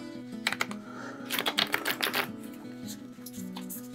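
A fresh, slightly sticky deck of cards is shuffled close by in quick flurries of crisp riffling and snapping, with a soft tonal murmur running beneath.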